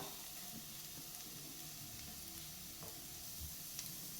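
Potatoes frying over a low flame for Kerala-style potato mezhukkupuratti give a soft, steady sizzle that runs evenly throughout with no talking.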